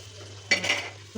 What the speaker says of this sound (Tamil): முட்டையை இந்த மாதிரி லைட்டாக கீறிட்டு போட்டுக்கேன்